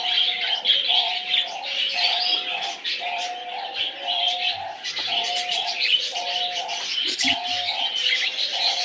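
Budgerigars at a bird farm chirp and warble steadily in a dense, continuous chorus, with a regular pulsing call repeating about once a second underneath and a brief louder clatter near the end.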